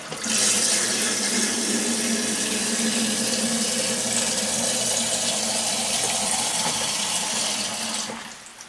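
Rinse water pours out of an electric kettle being descaled, a steady loud splashing rush into a sink that runs for about eight seconds before tapering off.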